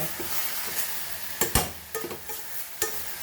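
Masala for Goan crab chilli fry sautéing in a pan, a steady low sizzle broken by sharp spoon-against-pan stirring scrapes and knocks, close and fairly quiet, no voices.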